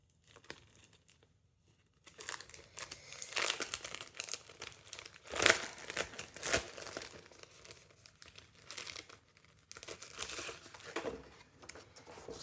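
Crinkling plastic wrapping tears and rustles as a craft stencil package is opened, close and busy for about ten seconds after a short silent start.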